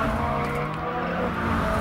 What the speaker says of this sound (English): Keeping the slide going requires gentle bursts of the throttle, and as Kiki expertly demonstrates